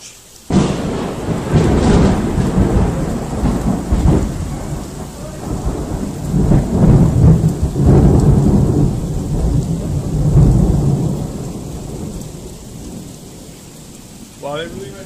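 A severe thunderstorm brings loud, rolling thunder that swells and fades in long waves over steady heavy rain, starting abruptly after a quiet moment and easing off toward the end, with no talk.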